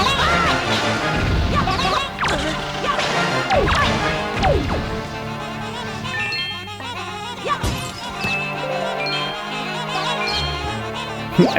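Miniblin enemies in The Legend of Zelda: The Wind Waker make small squeaky chirps amid repeated smashing and whacking hits, tinkly jingles and busy game music, all in a steady, cluttered stream.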